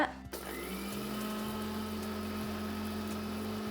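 A mixer grinder dry-grinding roasted spices into powder whirs loudly and continuously after a brief start, its motor droning steadily with slight shifts in pitch.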